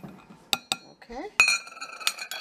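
A spoon clinks against a glass jar of blueberry and cherry jam with chia seeds, giving a few sharp separate taps and scrapes with quiet gaps between them.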